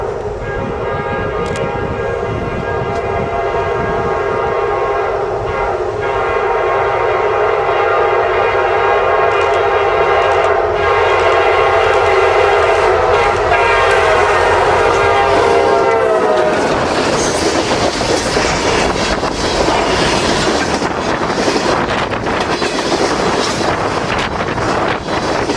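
Kansas City Southern LL44 freight train sounds a long, loud horn with sustained harmonic tones as it nears, then roars past close by with rumbling wheels and clickety-clack, wind buffeting the microphone.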